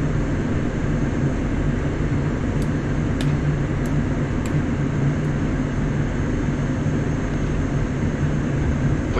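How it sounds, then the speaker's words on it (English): An aircraft lands on a runway in the DCS flight simulator, heard as a steady, loud engine roar that drones on unbroken, with a few faint high clicks near the start. "Oh, he's landing."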